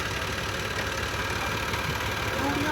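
A Massey Ferguson 260 tractor with a 65 hp engine labours steadily under the load of a wheat-laden trolley, a continuous loud low rumble with no breaks.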